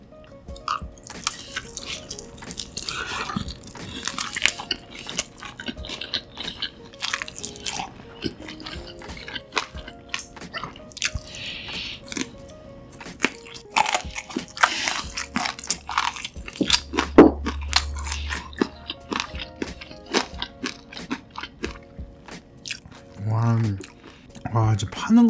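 Bossam dipped in sauce and eaten close to the mic, with crunchy bites, wet chewing and smacking spread over the stretch, interrupted by brief speech between mouthfuls.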